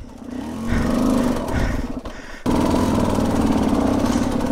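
A KTM 200XCW two-stroke enduro motorcycle engine running after standing a while, a steady buzzing idle that dips briefly and then returns slightly louder, close by with no talk.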